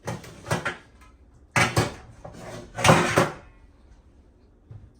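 A pie pan pulled from a kitchen cupboard, with several clattering metal knocks and scrapes in short clusters, close and fairly loud, followed by a faint final clink.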